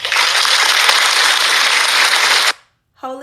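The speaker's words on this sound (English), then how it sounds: "this is an area right here where we just got to clap" An audience breaks into loud, sustained applause, many hands clapping densely for a few seconds before cutting off sharply; a voice resumes just after.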